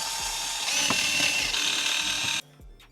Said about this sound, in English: All we're gonna need to do is unscrew. There's some Phillip head in here.